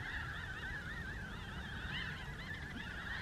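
A flock of birds honks continuously at a campsite outside Grand Canyon National Park, a dense wavering chorus of goose-like calls at moderate distance with no voices.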